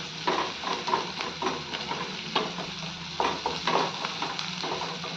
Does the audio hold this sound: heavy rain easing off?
no